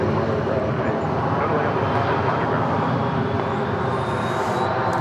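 A Southwest Airlines jet at Dallas Love Field gives a steady, loud engine roar for several seconds, with a voice talking over it.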